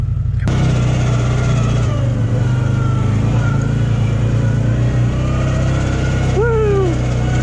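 A CFMOTO ZForce UTV grinds up a steep, tight 50-inch trail in low gear, its engine a loud, steady close drone with a brief voice-like whoop near the end.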